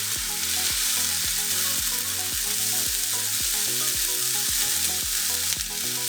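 Green pepper and mushrooms fry in a pan with a steady loud sizzle, with rhythmic stirring scrapes through it and no talking.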